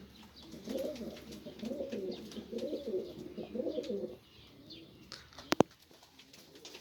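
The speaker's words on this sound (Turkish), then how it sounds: "Kayseri'nin en eski kuşları yine arkadaşlar." Old pigeons in a coop in Kayseri, Turkey, give soft repeated low coos in bursts over several seconds. Then comes a quieter stretch with a couple of sharp clicks near the end, and no talking.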